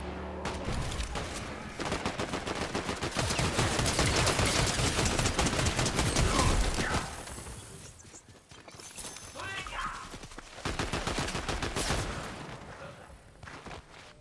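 Gunfire in a battle royale video game: dense, crackling volleys of shots that come in waves, loud and continuous over a busy background, thinning briefly before picking up again.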